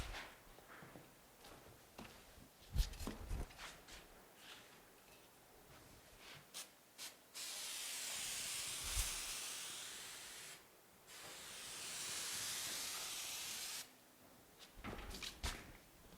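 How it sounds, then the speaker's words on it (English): Spray adhesive hissing onto the back of a corner bead during an archway drywall install, with two long steady bursts of spray, close and fairly loud, between quieter handling clicks and knocks. "I'm going to actually spray a little bit of the spray adhesive to the back of the bead"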